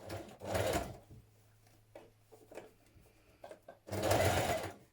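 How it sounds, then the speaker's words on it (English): A sewing machine stitches the hem of a Josie hoodie in two short, loud bursts of rapid whirring, with quiet fabric handling and light clicks in the pause between them. "Turn up your hem and you're going to stitch your hem in position."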